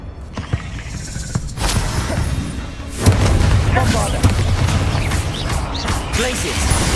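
Blasting spell explosions in Hogwarts Legacy, heavy booming bursts with crashing debris and rumbling aftermath that thickens around the three-second mark, with a voice speaking over the game noise.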